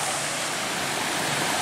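Water pours down beside an old stone spring house on a trail, forming a steady, close, broadband rush with no pauses.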